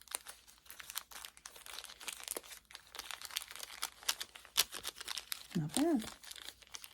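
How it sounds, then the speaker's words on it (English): Crinkly filler material being stuffed into a handmade cat toy, with rapid crackling and crunching rustles throughout, and a brief spoken comment near the end. "I'm just going to stuff 2 in. Oh yeah, it is crinkly."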